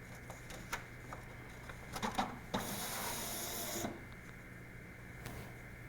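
A paper ballot feeds through a voting tabulator machine with a brief whirring rush of rollers, framed by scattered clicks and taps.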